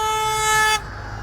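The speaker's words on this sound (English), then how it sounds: "A car horn blares in support of these neighbors protesting a proposed cannabis dispensary." A single loud, steady blast of a car horn nearby at a neighborhood protest against a proposed cannabis dispensary, held for under a second and then cut off, leaving quiet street background.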